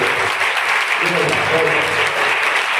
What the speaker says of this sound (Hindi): जोरदार प्रभु को तालियों से